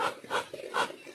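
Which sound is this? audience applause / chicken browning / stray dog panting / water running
stray dog panting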